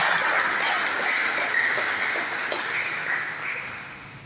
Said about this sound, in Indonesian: Tepuk tangan untuk Pak Eri Cahyadi.